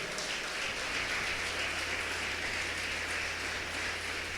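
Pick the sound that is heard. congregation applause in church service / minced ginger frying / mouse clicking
congregation applause in church service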